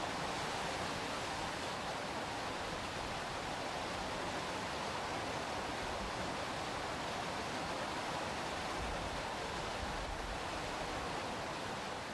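Water spilling from a public fountain in Valencia, a steady broadband rush and splash that stays constant and even throughout, with no voices.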